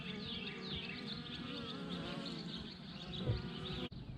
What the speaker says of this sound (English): you can actually see the bees bringing in pollen now